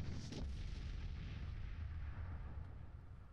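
Starship weapon salvos fire in a space battle in the Master of Orion video game, heard as a dull continuous barrage of low rumbling booms, fairly quiet and steady throughout.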